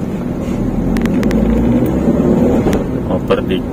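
Manual Wuling Confero driving in stop-and-go city traffic, its gears shifted from first to second: a steady low engine and road rumble fills the cabin, with a few faint clicks near the end.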